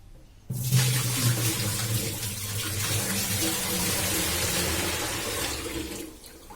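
Water pours steadily into a traditional clay pot used as a cooler and drains back out as dirty, muddy rinse water, a continuous close splashing and gurgling that starts abruptly and runs for several seconds before tapering.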